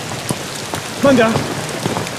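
Heavy rain pours steadily outdoors, a constant dense hiss with scattered drops hitting surfaces nearby, while people speak briefly over it.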